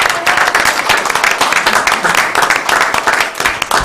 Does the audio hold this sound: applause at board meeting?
yes